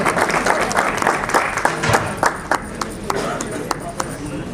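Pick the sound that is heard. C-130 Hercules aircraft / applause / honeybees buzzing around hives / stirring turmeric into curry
applause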